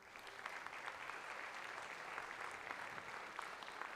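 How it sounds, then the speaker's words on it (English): A crowd at a congressional district debate applauds steadily from a distance, a faint, even wash of clapping with no voices over it. "So please let's give them a round of applause."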